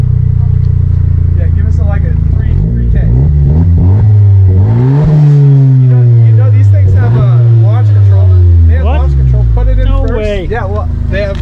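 An all-wheel-drive Honda Civic with a sequential dogbox transmission revs hard and loud, pitch climbing and falling in repeated surges, with people talking over the roar.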